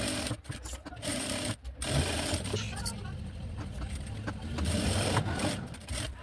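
Sewing machine running in steady bursts while stitching a fabric lining for a quick document holder, close and fairly loud, with brief pauses between runs and someone talking over it.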